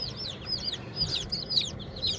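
Chicks in a home brooder under heat lamps, peeping in quick, high, overlapping bursts close by over a low, steady background hum.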